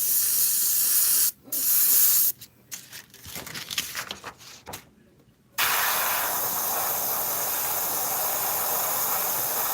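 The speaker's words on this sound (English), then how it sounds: "having fun with the airbrush" An airbrush sprays Createx paint onto synthetic paper in loud hissing bursts: two short blasts, a broken stretch of brief sputtering puffs, then a long continuous hiss to the end.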